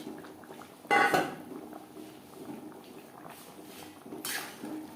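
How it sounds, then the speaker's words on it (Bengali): Fried fish is added and mixed into gravy in a pot, with one loud clatter of utensil against metal, a later softer scrape, and a low simmering bubble between them; no speech. "গ্রেভির সাথে মাছ বেশ ভালো করে মিক্সড করে দেব"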